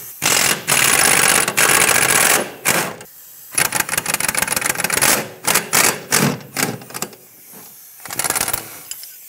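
Socket tool loosening a 15 mm bolt during rear upper control arm replacement on a 2012-2020 Ford Focus, heard as loud, close bursts of rapid mechanical rattling separated by short pauses.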